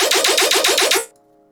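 Layered tearout bass in FL Studio, a growling main layer paired with a metallic high-end layer, pulses loudly in a rapid, steady run of about eight bright, buzzing hits before stopping sharply into near silence.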